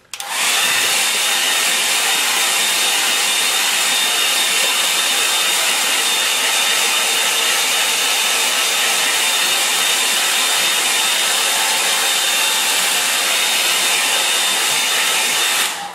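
A hair dryer blows steadily and loudly at close range to dry thick paint on a country lane painting, a continuous unbroken whoosh lasting the whole stretch with no talk.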